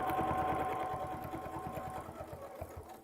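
A sewing machine stitches quilt pieces together with a quick, even needle rhythm and a soft motor hum, close and quiet, running continuously throughout.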